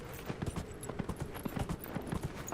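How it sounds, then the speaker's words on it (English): Horse hooves in the video game Dragon Age: Inquisition pound in a quick, steady galloping rhythm, close and even, with faint game ambience underneath and no talk. "I love that I can actually run while I'm on the horse."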